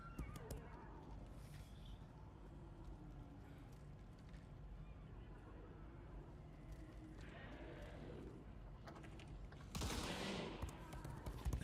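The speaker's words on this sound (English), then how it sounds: "Shut up, horse." A horse in a game whinnies and snorts at close range amid muffled action sounds and distant gunfire bursts, with hoofbeats and a louder burst near the end.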